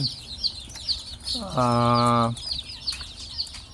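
Young native chickens, a nursery flock of over a hundred birds kept in a cage, cluck and chirp close by, with one longer, louder call rising over the steady chatter.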